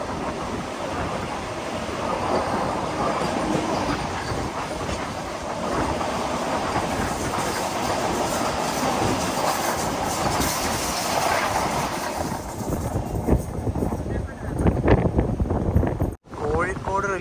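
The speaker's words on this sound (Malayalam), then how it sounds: "കോഴിക്കോട് റെയിൽവേ സ്റ്റേഷനിലേക്ക് ഇതാ നമ്മുടെ ട്രെയിൻ എത്തിക്കൊണ്ടിരിക്കുകയാണ്" A Kochuveli–Rishikesh Express rolls into Kozhikode railway station, its loud steady rumble and clatter of wagons filling the platform with wind buffeting, then the noise breaks off abruptly near the end while faint voices carry in the background.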